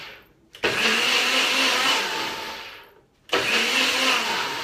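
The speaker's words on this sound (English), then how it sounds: "it's gonna be steamy because these are hot tomatoes we're blending" A kitchen blender pulses hot tomatoes for sauce in two short bursts. Each burst whirs loudly, then fades as the motor slows, with a brief silent gap between the pulses.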